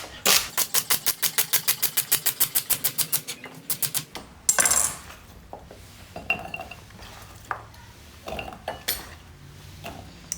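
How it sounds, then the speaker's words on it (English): A knife chops rhubarb stalks into thick slices on a board, first a fast, regular run of about twenty crisp taps, then scattered heavier cuts and clacks, close and loud with no talking. "Take the ends off. These are not very tasty. I cut them about 1 centimeter thick."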